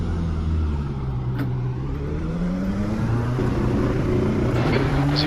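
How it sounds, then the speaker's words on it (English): A race car engine drones loudly and continuously, its pitch climbing as it revs and draws nearer, with no talking, in the racing game iRacing during the 6 Hours of Le Mans. "There's a car approaching."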